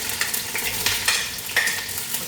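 Two shallots frying in a hot pan for a crab masala, heard as a quiet, steady sizzle with light stirring and a few soft scraping strokes, no voices.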